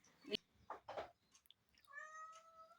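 A cat meows a few times in short calls, then gives a longer drawn-out meow, fairly close in a quiet room.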